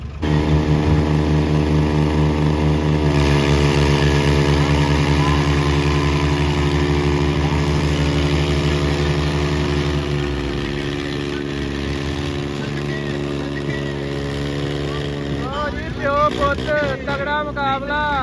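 Two tractors, a 4610 and a 4600, strain against each other in a tug-of-war contest. Their engines give a loud, steady, deep rumble that shifts pitch midway, and a voice calls out over them near the end.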